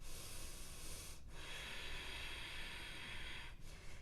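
Slow, deep breaths during a yoga flow, heard as long steady rushes of breath near the mic, with two brief pauses between them over a constant hiss.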